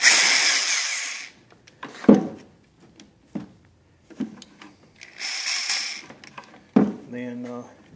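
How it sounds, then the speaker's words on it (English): Two bursts of a high, whining power drill boring an entry hole in a beehive, the second shorter, with brief clunks and a few spoken words in between. "you don't need to watch me drill a hole"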